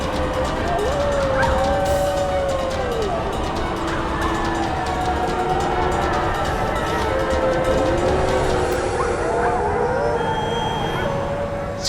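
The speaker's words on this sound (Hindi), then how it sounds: "सियार के रोने की आवाज इसी दिशा से आ रही है।" Jackals howling, several long, wavering cries rising and falling one after another above a loud, continuous layer of background sound.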